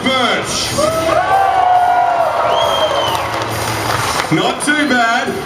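A crowd cheers and whoops loudly at a freestyle motocross show, a sustained roar of voices with scattered shouts lasting the whole stretch.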